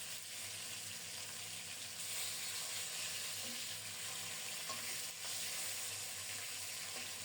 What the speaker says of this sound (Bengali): এদিকে মাছ ভাজাও হয়ে যাচ্ছে